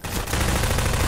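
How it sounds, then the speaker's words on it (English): Rapid gunfire in Half-Life 2, a dense burst of shots filling the whole moment, loud and continuous like automatic weapons firing nearby. "I hear people shooting"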